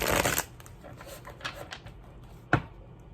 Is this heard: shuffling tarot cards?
yes